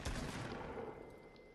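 A single loud shotgun blast fires in Fortnite, with a sharp low-heavy onset that decays into a dense, noisy tail across the rest of the moment.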